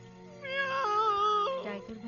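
A voice imitates a cat's meow for an animated tiger character, one drawn-out, rising then falling mew lasting over a second, clear and close.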